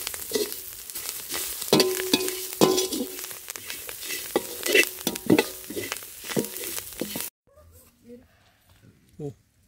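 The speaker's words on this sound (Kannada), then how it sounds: "ಸ್ವಲ್ಪ ಬೆಳ್ಳುಳ್ಳಿ ಫ್ರೈ ಮಾಡ್ಕೊಬಿಡಿ ಅದ್ರ ಜೊತೆ" Garlic fries in a pan with loud, close sizzling and repeated scraping stirs and clacks, then the sound drops away to near silence for the last couple of seconds.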